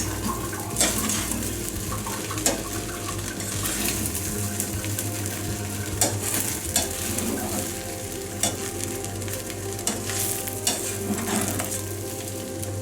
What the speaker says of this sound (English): coriander leaves, hara dhania, and give it a mix.